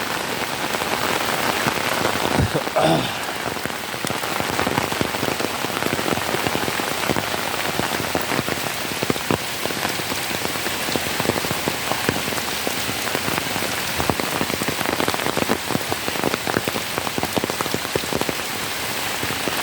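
Heavy rain pours down on a wet day, a loud unbroken roar of drops close at hand lasting throughout with scattered sharper splashes and no voices.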